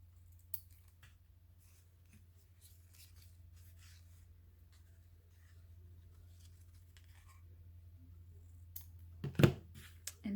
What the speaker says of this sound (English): then we'll trim the ends